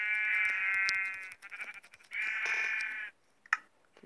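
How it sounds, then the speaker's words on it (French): Sheep in Minecraft Pocket Edition bleat in two loud, close, drawn-out calls separated by a brief pause, followed by a few short clicks and rustles as the bleating stops. "On va niquer vite fait la gueule à ces moutons."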